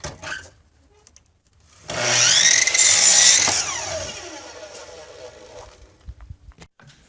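Power saw cutting through reclaimed shiplap wood boards for a smokehouse, a loud whining cut of about two seconds that fades out. Quiet handling noises come before and after.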